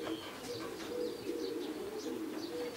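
Racing pigeons arriving at a club loft in Odolanów coo and call softly, with a few brief chirps and faint wing flutters over a steady low outdoor background.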